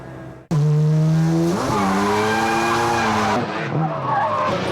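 A turbocharged rear-wheel drive car drifts sideways, its tires screeching in a loud sustained squeal over a roaring engine whose pitch rises and shifts as the slide continues.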